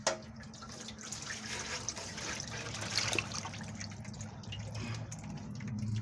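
Transmission fluid drains in a steady trickling, splashing stream from a Ford 4R100 automatic transmission as its pan is lowered, a continuous liquid pour heard up close without talk.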